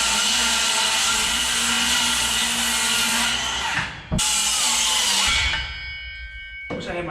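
A power saw cutting through galvanized steel wall panels, a loud, harsh sustained whine that briefly cuts out and then resumes for a few seconds.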